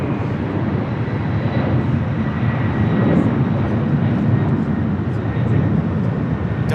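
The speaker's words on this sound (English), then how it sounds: "Delta Airlines 915 taking off to JFK" A Delta Boeing 767 jet airliner takes off from LAX runway 25 right toward JFK, a loud, continuous engine roar filling the clip and swelling slightly in the middle, with faint talk underneath.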